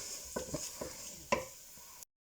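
Garlic fries lightly in a pot for a Spanish pork rib, chorizo and lentil stew, a soft steady sizzle broken by a few close utensil scrapes and taps, with no talk.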